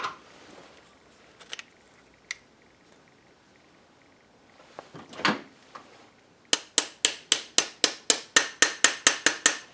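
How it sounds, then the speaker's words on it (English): A bearing is driven into a Puch E50 engine with a socket. A few scattered knocks and scrapes give way to a rapid run of about fourteen sharp, evenly spaced metallic hammer taps, close and loud. "We should take a socket and try to"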